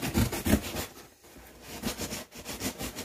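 Cardboard packaging of a mystery unboxing package is cut open, producing close, rhythmic rasping and scraping strokes that briefly stop and then continue steadily.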